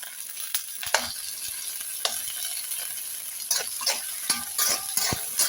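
Chunks of mackerel sardine flesh sauté in a pan, a continuous hiss of frying broken by sharp clicks and scrapes of a utensil stirring, fairly loud and close with no talking.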